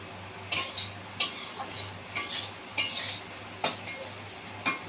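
Food frying in a pan as a spoon or spatula scrapes and clinks against the metal in about eight quick separate strokes, close up over a low steady hum, with no talking.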